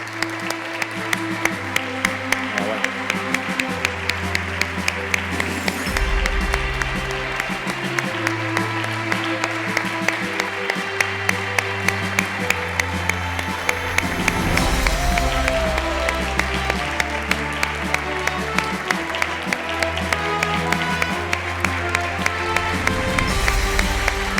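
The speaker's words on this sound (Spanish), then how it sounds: "Un aplauso para ellas" At an equality awards gala, an audience applauds the award recipients over music with a steady, pulsing beat. The sustained clapping blends with the music for a long stretch at moderate loudness.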